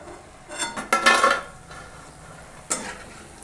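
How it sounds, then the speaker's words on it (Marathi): Crisp fried namak pare made from wheat flour being scooped from hot oil onto a plate, with a few clattering scrapes and clinks of a slotted spoon, a brief burst of sizzle, then a lone later clink. "तर आता मी खाली प्लेटमध्ये काढून घेणार आहे"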